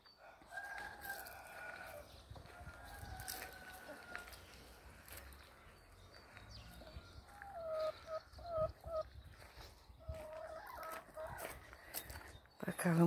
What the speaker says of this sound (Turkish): Bunlar da tavuklarım anneciğim.